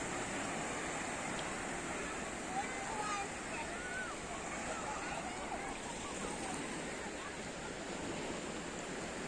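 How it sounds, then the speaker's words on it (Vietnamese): Whitecap sea waves roll in at Kỳ Xuân beach in Kỳ Anh, Hà Tĩnh, a continuous roar of surf mixed with wind, loud and unbroken, with a voice faintly present underneath. "Một con sóng bạc đầu."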